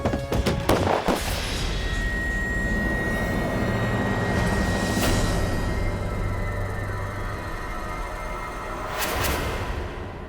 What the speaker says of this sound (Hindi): इस बार गोली 3 इंच बगल से गई